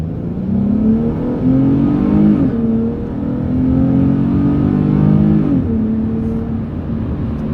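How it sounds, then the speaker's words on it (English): A Dodge Challenger launches hard in a 0 to 60 run with stability control off and sport mode on, its engine revving up loudly through rising gears, with two clear shift breaks, close and alone. "let's go for a 0 to 60 test. ESP's off, sport mode on"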